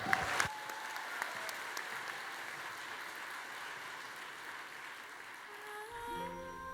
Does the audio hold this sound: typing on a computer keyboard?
no